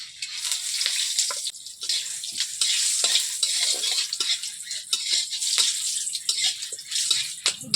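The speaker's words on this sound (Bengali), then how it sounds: "পেঁয়াজ সঙ্গে গোটা মশলাগুলো ভেজে নিয়েছি" Whole spices with onion frying in ghee, with clove, cardamom, cinnamon, black pepper, dried chilli and bay leaf, for jeera rice; a steady close crackling sizzle with scraping stirs throughout, no talk.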